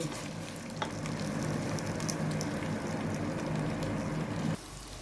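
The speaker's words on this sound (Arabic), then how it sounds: "وحط له ميه ايه تغلي." Rice stirred in hot ghee as water is added to the pot for boiling gives a loud, steady sizzling hiss that holds for about four and a half seconds before cutting off abruptly.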